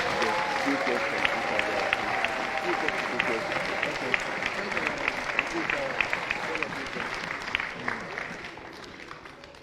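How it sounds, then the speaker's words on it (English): A large audience of Nigerians applauds warmly at a Peter Obi speech event in Charlotte, North Carolina, with dense, sustained clapping and scattered cheers filling the hall for several seconds before it tapers off. "can I please hear another big hand of applause?"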